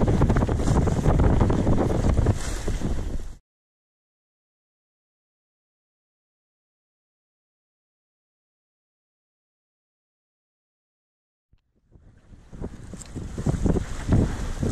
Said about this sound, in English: There's quite a decent westerly wind, force 4, and I think the tide had turned, so it was kicking up quite nicely